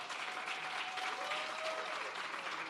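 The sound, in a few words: audience applause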